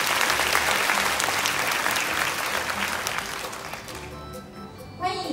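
Warm applause for guests at a Taiwan Railway anniversary celebration in an auditorium hall, dense clapping from a large audience that slowly thins and fades toward the end.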